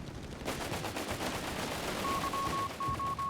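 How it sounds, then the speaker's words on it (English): Heavy machine gun in Company of Heroes 3 fires in a sustained, rapid rhythmic burst of loud shots, with a steady high beeping tone joining partway through. "he's really taking full advantage of his heavy machine gun's wide firing arc here"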